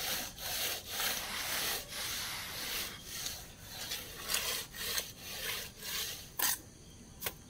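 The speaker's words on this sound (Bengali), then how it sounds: "শুকিয়েছে তো সেই জন্য ব্রুশ মেরে বসাচ্ছি," A brush scrubs repeatedly across drying mortar on fresh brick masonry, a series of close, quiet rasping strokes in an uneven rhythm, with no voices.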